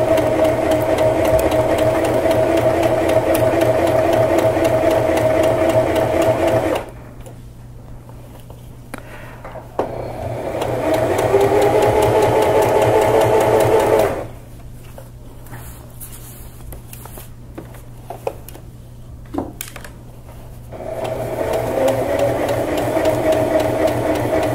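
A sewing machine stitches a skirt with an elastic waistband, running in three steady mechanical bursts with quiet pauses between them while the fabric is pivoted.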